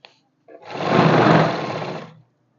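A sewing machine runs one close, loud burst of stitching on a belt of elastic and cloth for trousers. Its whirring motor builds quickly, holds for about a second and a half, and winds down, preceded by faint clicks.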